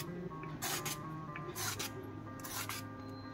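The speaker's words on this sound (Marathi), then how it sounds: "सुरुवातीला मी साल काढून घेते" A bottle gourd is being peeled, with three separate rasping strokes of the skin coming off, close and fairly quiet, over a low steady background hum.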